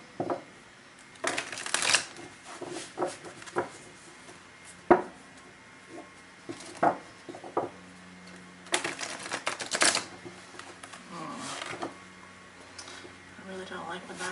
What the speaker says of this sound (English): these cards are difficult to shuffle sometimes